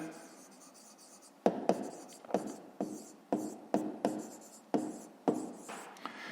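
Pen writing on paper during a fifth-grade maths exercise, a series of short scratchy strokes in an irregular rhythm, close and fairly quiet, with no voices.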